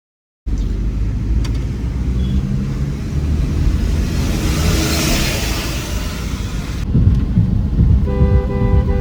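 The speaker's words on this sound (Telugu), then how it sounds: "చూసారా వర్షం ఎంత గట్టిగా పడుతుందో?" Heavy monsoon rain pours steadily over a car driving through the hills from Madurai to Munnar in Kerala, a dense, loud wash with a low engine and road rumble beneath and no talking.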